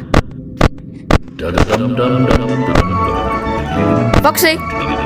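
Foxy pounding on a door in the FNAF Help Wanted video game: several loud, sharp bangs in the opening seconds and again near the end, with game sounds and a person talking in between.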